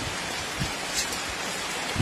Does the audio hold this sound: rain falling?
yes